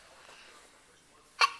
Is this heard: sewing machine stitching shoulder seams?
no